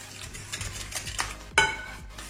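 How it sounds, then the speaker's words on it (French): Sugar and vanilla sugar are mixed in a bowl, producing a few short scraping strokes of a utensil ending in a sharp clink against the side, close and fairly quiet. "Sucre vanille, le sachet de sucre vanillé et on mélange."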